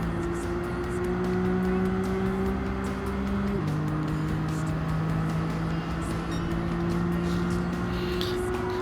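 Race car engine in the Gran Turismo 7 racing game holds a steady loud drone, then drops in pitch at a gear shift and keeps running at a constant level, with no talking.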